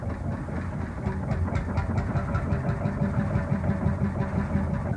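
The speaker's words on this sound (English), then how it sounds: "It is a petrol paraffin hit and miss governing type engine." A Tangye CV 5 hp petrol paraffin hit-and-miss stationary engine running at a pump set on a cast base, giving a steady low chugging rumble with a faint rhythmic ticking, continuous and fairly close, no talk.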